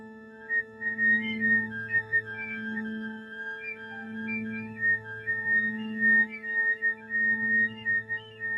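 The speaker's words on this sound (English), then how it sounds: "recommend the whistle tones as a way to warm up your embouchure" Soft, breathy high flute whistle tones, used as an embouchure warm-up, wander and flicker between pitches, quiet and close, with a faint sustained low hum beneath.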